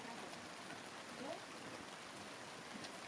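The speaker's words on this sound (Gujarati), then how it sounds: "આજ તો રાતનો વરસાદ ચાલુ છે" Night rain falls steadily over a village, a faint, even wash of drops on surfaces that continues without a break.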